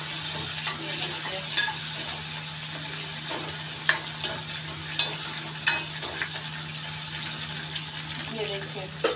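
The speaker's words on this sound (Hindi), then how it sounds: "ये देखिए ये हमने डाल दिया है टमाटर, इसको थोड़ा सा हमें नरम करना है, गलाना नहीं है" Chopped tomatoes softening in hot oil in a pan, giving a steady hiss with occasional utensil clinks and scrapes throughout, close by.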